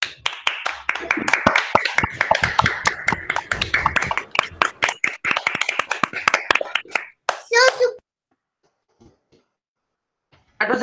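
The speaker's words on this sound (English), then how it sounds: "Give them an enthralling round of applause" Crisp, rapid clapping from a school annual-day audience after a grade 4 students' performance, mixed with children's voices, loud and close for several seconds before cutting to near silence.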